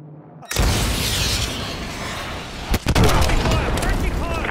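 AGM missile strike explosions boom in Call of Duty Modern Warfare, a sudden loud blast followed by a sustained roaring rumble and a second sharp impact, with a voice faintly audible.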